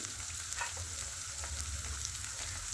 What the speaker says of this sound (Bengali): দেন এর উপরেই আমি পেঁয়াজগুলো দিয়ে দিচ্ছি।